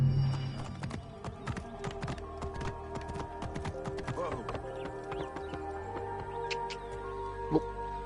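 Horse hooves clip-clopping in Assassin's Creed Origins, a video game set in the ancient Egyptian desert: a quick series of sharp hoof clicks over a steady tonal game soundscape, fairly faint, with a brief louder knock near the end.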